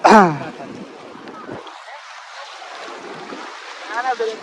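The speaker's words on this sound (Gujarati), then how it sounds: "દરિયો હિલોડા લે ભાઈ, દરિયો" Steady rushing of sea waves and wind near Haji Ali in Mumbai fills the scene, with a voice briefly at the start and faint talk returning near the end.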